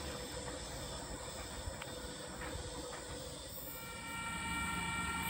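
A train running at Wondabyne Station, a small stop in New South Wales, as a steady broadband rumble with hissing and faint tonal whines. The noise swells toward the end with no voices.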